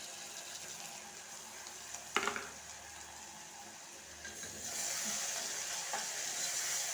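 Tomatoes tipped into a hot frying pan for a meal maker curry give a quiet, steady sizzle, with a brief clatter as they drop in and a louder hiss rising near the end as they are stirred.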